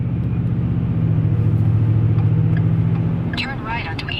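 Steady engine and road rumble from a car driving on the road, heard from inside the vehicle, loud and continuous with a brief chirp or squeak near the end.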